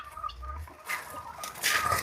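Domestic chickens cluck near and close at a family home while being fed spinach greens, giving a few short clucks and calls over soft background noise.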